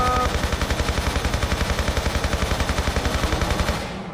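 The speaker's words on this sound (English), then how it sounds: "I could just unload a billion bullets into him" Rapid automatic gunfire from a Tomb Raider video game, bullets unloaded into a T-Rex in a steady, fast, evenly spaced burst of loud shots lasting about four seconds, fading slightly at the end.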